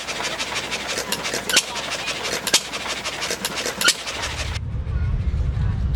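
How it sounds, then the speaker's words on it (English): A John Deere single-cylinder gas engine chugs close by with a rapid, uneven putter while driving a homemade ice cream maker at an outdoor steam engine festival, then gives way to wind and low rumble. "here we actually have a John Deere single-cylinder gas engine making"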